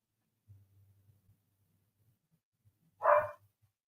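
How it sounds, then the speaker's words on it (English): Dogs let outside, wanting back in, give one short loud bark after a stretch of near silence, with faint low rumbling noise beforehand. "I let the dogs out and now they want to come in."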